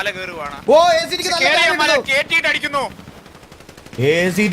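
Gunfire crackles in rapid bursts during a GTA V tournament team fight, partly masked by loud, excited commentary that carries on over the shots.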